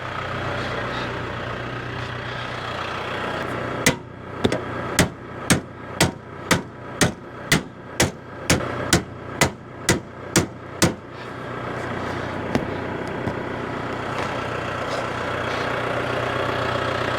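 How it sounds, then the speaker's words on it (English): A new hammer strikes a lawn mower about fifteen times in a steady rhythm, each blow sharp and loud over a constant background hum, with a lone final tap after a short pause; nobody speaks. "Got a job for one of my new hammers."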